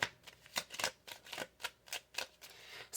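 Tarot cards are shuffled by hand in quick riffling bursts, about a dozen crisp flutters in an uneven rhythm, close and fairly quiet with no talking.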